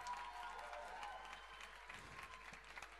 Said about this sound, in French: Big applause, grand applaudissement